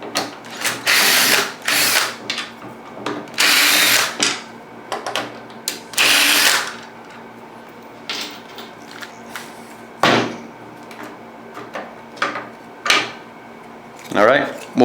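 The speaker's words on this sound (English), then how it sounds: "all we got to do now is take out these 3 screws on the handle and pull that side off." A power screwdriver or drill removing three screws from the handle of a Hitachi surfboard planer, short whirring bursts separated by pauses, with clicks and handling noises, and someone talking in between.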